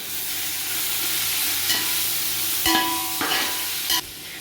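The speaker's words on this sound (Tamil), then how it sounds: "இந்த ஸ்டேஜில் நம்ம கழுவி வச்சுருக்கிற சிக்கனை அதில் போட்டுடலாம்" Oil sizzles steadily as turmeric-coated chicken fries in a pan for biryani, with a few sharp scraping clinks of a spatula stirring through the pieces.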